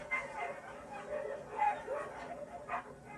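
Sled dogs on a mushing team yip and bark in short, excited bursts against a busy outdoor background, with someone talking faintly nearby.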